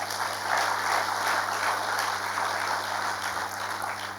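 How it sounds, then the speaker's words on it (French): Audience applause at a French youth entrepreneurship event, a steady dense patter of clapping that holds evenly from start to finish with no voices over it, under a faint constant electrical hum. "vous demander de vous applaudir vous-même"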